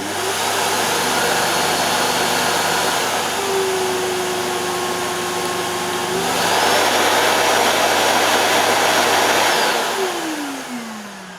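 A Hoover Silent Energy bagged vacuum cleaner running at its mid power level, a steady whirring motor drone with a tonal hum that shifts pitch partway through and winds down at the end.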